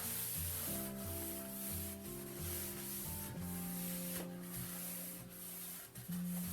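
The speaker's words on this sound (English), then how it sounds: "we're going to give this surface a scuff sand by rolling a bit of sandpaper either onto a little board or onto a hard sanding pad" Sandpaper wrapped on a board or hard pad scuff-sands a painted wooden fireplace surround, giving a steady continuous rubbing scrape close up, with no talking.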